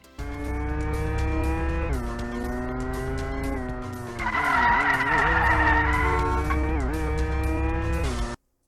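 Car engines revving and tires squealing in the intro of the game Car Parking Simulator, a loud sustained engine drone that shifts gears and pitch, with skidding midway, and cuts off abruptly at the end, with no talking.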